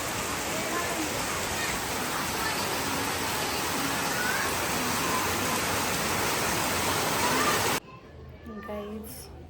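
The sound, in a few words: first monsoon rain falling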